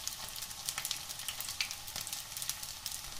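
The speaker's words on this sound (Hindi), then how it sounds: "इसको फ्राई होने देंगे, इसको गोल्डन ब्राउन तक ऐसे ही रखेंगे" Leftover rice pakoras frying in hot oil, a steady close crackle and sizzle with dense fine pops throughout.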